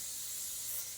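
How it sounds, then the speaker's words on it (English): Setting spray hisses steadily onto a foot in a continuous, close burst lasting about a second. "Let me spray my other foot."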